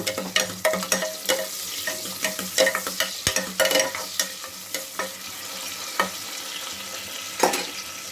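Onions frying in a pan for menthya bath, a lively sizzle broken by repeated stirring scrapes and spatula knocks at an uneven rhythm, close and fairly loud, with no voices.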